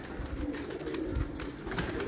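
Pigeons on a rooftop coo steadily in low, rolling murmurs, close and continuous with no talk over them.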